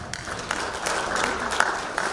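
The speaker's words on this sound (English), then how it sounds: "student athletes, give a round of applause to your parents" Student athletes and guests applaud their parents at a college signing day ceremony, a steady wash of crowd clapping filling the room with a few sharper claps standing out.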